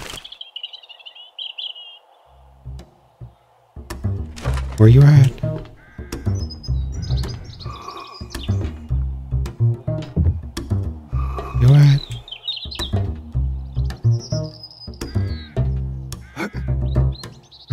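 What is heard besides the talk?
bird chirping in 7 Days to Die video game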